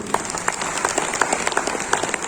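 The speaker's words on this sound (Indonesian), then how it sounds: "Beri tepuk tangan yang meriah." A church congregation at a Sunday service claps in a dense, lively burst of applause, steady and close throughout the short stretch.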